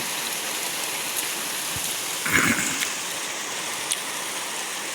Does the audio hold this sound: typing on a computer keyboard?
no